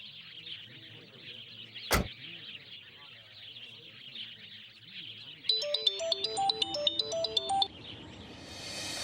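A phone ringtone plays a looping electronic melody of bright stepped tones for about two seconds near the end, following a stretch of background scene sound with a sharp click partway through.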